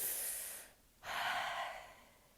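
A slow deep breath fills a quiet room: a long airy inhale, a brief pause, then a steady breathy exhale, close and alone with no talking.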